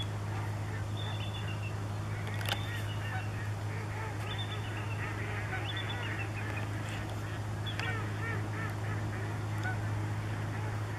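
Birds in the Klamath Basin call back and forth with repeated honking, goose-like cries at moderate distance. The calls are scattered over a steady low rumbling background.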